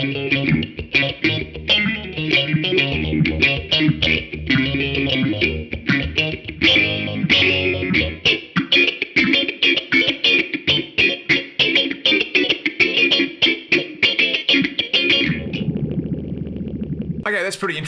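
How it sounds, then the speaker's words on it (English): A $40 modulation pedal in liquid mode, where a fast sample-and-hold style filter chops the instrument into rapid, choppy pulses, loud and steady, with a brief sustained tail at the end. "like this liquid mode, which almost sounds like a really fast sample and hold filter style thing"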